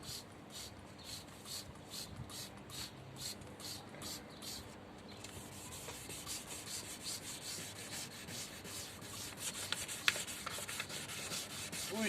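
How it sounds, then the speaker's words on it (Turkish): Steady scraping and rubbing of 180-grit sandpaper across a hard plastic car headlight, continuous with rhythmic strokes, close and moderately loud. "Şimdi 180'lik zımparamla zımparalamaya başlıyorum."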